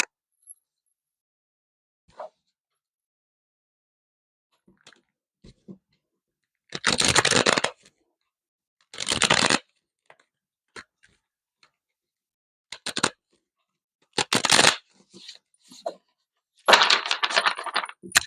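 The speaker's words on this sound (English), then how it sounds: "I'm gonna shuffle the deck because I'm getting nervous in this energy" Cards are shuffled in several riffling bursts, with quiet ticks and taps of the deck in between.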